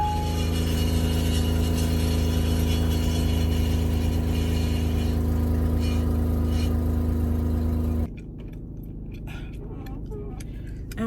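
A car engine hums steadily with a low drone from inside the cabin while driving, loud and constant for about eight seconds before dropping to a quieter rumble with small knocks.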